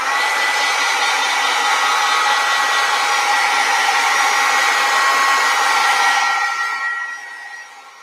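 A hair dryer blows steadily to dry acrylic paint on a canvas, a loud continuous whirring rush that holds for several seconds and then winds down and fades as it is switched off.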